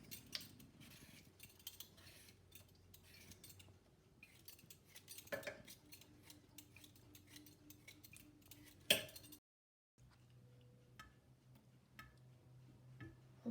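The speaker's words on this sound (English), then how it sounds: "I'll peel these 4 that I have" Potatoes peeled with a knife at a kitchen sink, giving light scraping and clinking taps against a faint steady background hum, with a brief pause near the end.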